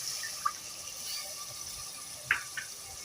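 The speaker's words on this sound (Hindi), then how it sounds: "अब हम थोड़ा सा इसके अंदर जो है वो पानी ऐड कर देंगे" Water poured into frying masala for aloo chicken: a quiet hiss of liquid hitting the hot pan with a few small splashy ticks and pops, faint and steady, no talk.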